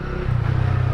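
Roncar performance exhaust on a carbureted car, an engine rumbling low and steady that steps up in level partway through as it is revved, close and loud with no talk.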